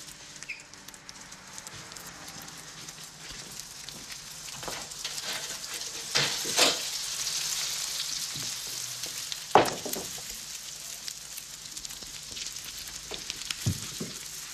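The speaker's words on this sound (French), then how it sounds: "Les œufs brûlent, Fan." Eggs frying and burning in a pan in a kitchen, a steady hiss and crackle of sizzling fat with a few sharper pops and spits, fairly close and continuous throughout, with no talk over it.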